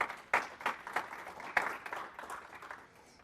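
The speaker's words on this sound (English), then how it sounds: "Give him a big round of applause." Scattered applause from a small conference audience welcoming a systems engineer to the stage, with a few distinct sharp claps standing out before it thins and fades.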